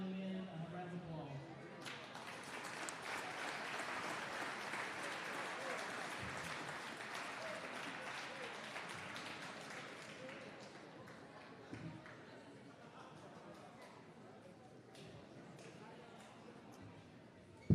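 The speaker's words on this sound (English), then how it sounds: "everybody give these 5 young men a round of applause" A high school gym crowd claps for five senior basketball players on senior night at Greenbrier West, broad applause swelling, holding, then thinning to scattered claps, faint and somewhat distant.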